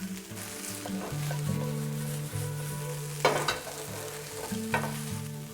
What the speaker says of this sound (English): Add in the green onions and give the pan a good stir.